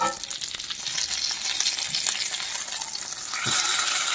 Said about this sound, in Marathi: आता ती पण बाजू आपण छान फ्राय करून घेऊया।